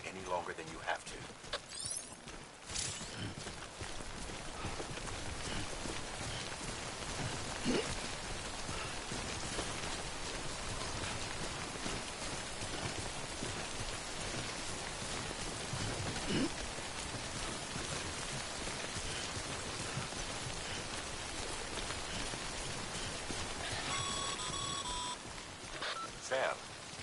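Steady rain patters across an outdoor scene in the video game Death Stranding, a constant dense hiss throughout with a few faint electronic beeps near the end and likely some speech.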